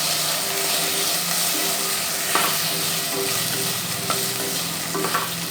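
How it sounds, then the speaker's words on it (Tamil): Onions sizzle and hiss steadily as they are sautéed in a pan for bisibelebath, with occasional scraping stirs of a spoon, close and fairly loud, and no speech. "வெங்காயம் நல்லா வதங்கிடுச்சு."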